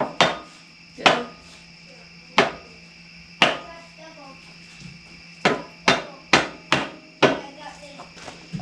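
Hammer blows drive a steel pin through the thumb attachment on a mini excavator, about eleven sharp metallic strikes at irregular spacing, some in quick clusters, loud and close with ringing decay between hits.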